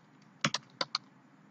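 A handful of close, crisp key presses on a computer keyboard, typing a column name while building a cafe management program in C#. Four distinct clicks land in quick succession against a quiet background.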